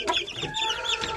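Bastonero Plus chickens cluck in quick, overlapping bursts close by, a busy flock chattering steadily for a moment with no talking.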